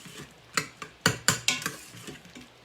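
Spices with cayenne or chili pepper and coriander powder stirred in a pan for an Indian-style pasta curry, several sharp scraping strokes of a utensil over a soft sizzle, close and with no voices.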